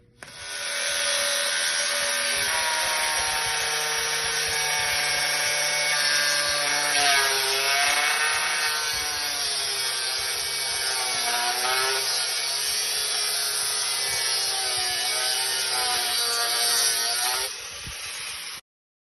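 A United Abrasive cutting wheel slices through a 2.5-inch by 1/4-inch thick carbon steel plate, giving a loud, continuous high-pitched grinding whine with wavering tones that holds steady for nearly the whole stretch before cutting off, with no voices.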